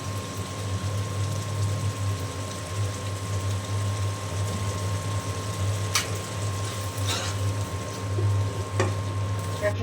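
Spices frying in oil in a pan: a steady, moderate sizzle with a low hum beneath and a few faint scraping clicks from stirring, continuous with no talk.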